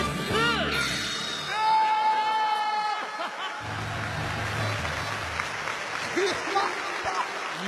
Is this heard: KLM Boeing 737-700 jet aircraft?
no